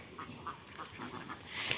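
Farm ducks quack in a steady series of calls, several birds close by and moderately loud with no talking, from a flock of 120 ducks.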